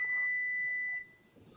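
A smoke alarm sounds a single sustained high-pitched electronic beep lasting about a second indoors, then cuts off, leaving a quiet room.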